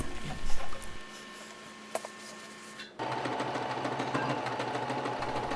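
A sewing machine stitches a patch onto a pair of jeans, running with a steady, even mechanical whir after a quieter stretch that begins with a few handling bumps.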